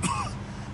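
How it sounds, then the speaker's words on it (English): A wounded character in the video game Mafia 2 coughs once, a short, rough throat-clearing burst that fades quickly, heard alone. "Every time I cough, it feels like I'm being stabbed in the chest."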